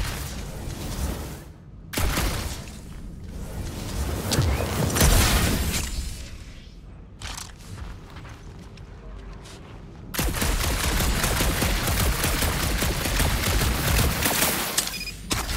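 Gunfire from an overcharged gun in the Guardians of the Galaxy video game, with loud bursts of rapid shots and booming impacts, a quieter lull in the middle, then a sustained dense stream of fire to the end.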